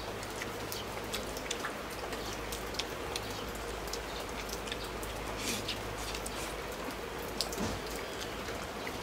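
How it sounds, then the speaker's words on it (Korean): Steady rain pattering onto the eaves in front of a house, a dense continuous hiss of drops with occasional sharper splats, even and unbroken throughout with no voices. "오늘 비가 와가지고"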